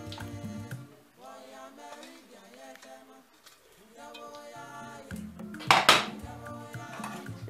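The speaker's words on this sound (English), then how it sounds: "So you can see my peanut snack is ready. I'll turn it onto my chopping board." A hot peanut snack bar is turned out of a pan onto a chopping board, with scattered metallic scrapes and clinks of pan and utensil, and one sharper clatter near the end.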